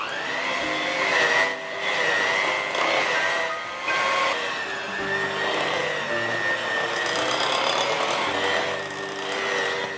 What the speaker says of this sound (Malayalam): ഒരു ബ്ലെൻഡർ എടുക്കുക, ഇതെല്ലാം കൂടി ചേർത്ത് ആദ്യം ലോ സ്പീഡ്, ചെറിയ സ്പീഡിൽ ഒരു 2-3 മിനിറ്റ്